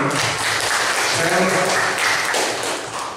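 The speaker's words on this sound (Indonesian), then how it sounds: "Tepuk tangan untuk kita semua." Applause from a school audience of students fills the space, a steady wash of clapping with murmuring voices mixed in throughout.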